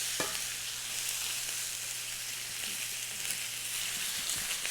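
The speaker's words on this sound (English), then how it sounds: "I'm going to let these saute up for just a few seconds" Green bell pepper sautéing in a pan, a steady soft sizzle with faint stirring clicks and a low hum running underneath, no voices.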